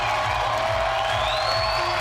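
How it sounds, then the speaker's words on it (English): Crowd noise at a bouldering competition final, a steady broad roar of cheering and whoops with a rising whistle-like shout, continuous and fairly loud throughout. "Getting crowd hyped up."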